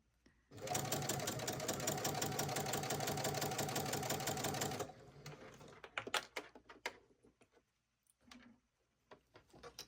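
A sewing machine fitted with a walking foot stitches fabric for a dress at a 4 mm stitch length. It runs in a fast, steady whirr for about four seconds, then stops, and quieter handling clicks follow.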